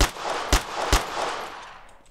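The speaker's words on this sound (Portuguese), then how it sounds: "Fui dar tiro. Denunciei a posição pra eles." Gunfire in the survival video game DayZ: three sharp, close shots spaced about half a second apart, each followed by a dense, echoing wash of noise that slowly fades.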